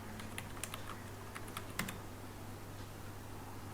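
Quiet computer keyboard typing as a command is entered on a Windows machine: a light scatter of soft key clicks over a steady low electrical hum, with no voices.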